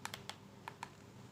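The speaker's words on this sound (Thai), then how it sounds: "เราก็พิมพ์เลยนี่เดี๋ยวผมจะพิมพ์จากคีย์บอร์ดนี้นะ" A handful of light, quick key clicks from typing on a small wireless keyboard, close and faint, in an irregular run with no voices.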